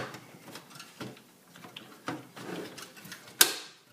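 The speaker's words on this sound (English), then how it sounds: "slides into place, clicks," A small clip on an iPhone part slides into place during a repair, giving soft scrapes and light taps before one sharp, distinct click near the end, heard close up and quiet.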